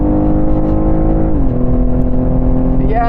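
A BMW M3 Competition with the M Sport automatic gearbox runs on a banked race track, its throaty engine note droning loud and steady, then dropping in pitch midway as revs settle before climbing again.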